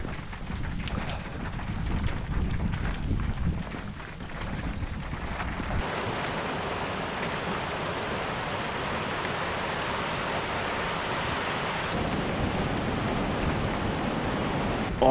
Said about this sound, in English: It's raining a bit heavier, but it's still okay.